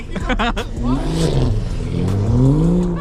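A car engine revs and whines while drifting on snowy ground, rising and falling under excited voices talking over it.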